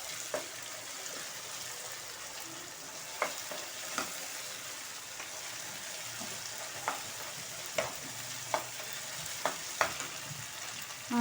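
Chopped ridge gourd is added to a hot pan with tomatoes and green chilies for a ridge gourd curry, frying with a steady close sizzle and periodic scraping clinks of a spoon stirring, no talk.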